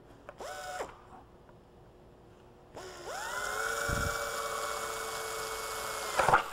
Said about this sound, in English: we'll use a pneumatic drill.